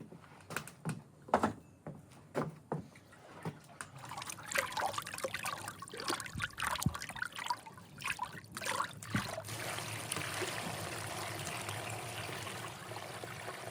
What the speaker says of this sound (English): Pouring the brine over the cabbage slowly ensures that every leaf is submerged